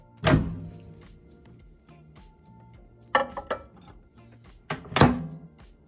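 A microwave oven door thunks shut three times, with quieter clicks and clatter in between the closings.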